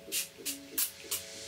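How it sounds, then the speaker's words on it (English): Living Proof Restore Perfecting Spray misted onto damp, tangled hair from roots to ends: four short, close hissing spray bursts in an even rhythm, fairly soft, with no talking. "Now let's spray roots to ends."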